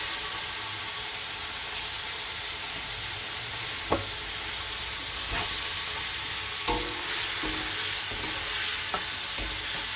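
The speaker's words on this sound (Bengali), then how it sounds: "এইবার আমি চিংড়ি মাছটা ভেজে নেব।" Red Paris prawns fry in a wok, giving a steady bright sizzle throughout with a few sharp clicks and pops of utensil contact scattered across the second half. No one talks.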